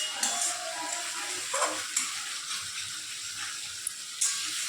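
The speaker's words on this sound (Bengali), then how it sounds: "আর একটু খানিকক্ষণ কষে নিয়ে তারপরে কাবলি চানাটা দিয়ে দেবো।" Spice masala for vegetarian chana masala fries in a pan, a hissing sizzle punctuated by sharp clacks and scrapes of stirring, fairly close, with no voices.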